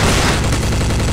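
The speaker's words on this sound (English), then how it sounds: "how does my machine gun kill him in about 50 hits" Machine gun fire in the video game Counter Strike: a loud, dense burst of rapid shots packed tightly together.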